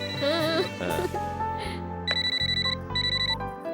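An electronic telephone rings in repeated trilling bursts, fairly close, over a soft background melody.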